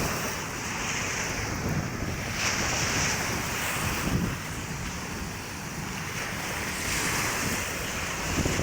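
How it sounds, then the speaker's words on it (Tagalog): Sea waves surging along Manila Bay during the southwest monsoon, a steady loud roar of surf mixed with heavy wind buffeting the microphone throughout, with no voices. "Yan, habagat na naman yung ating dagat o habagat."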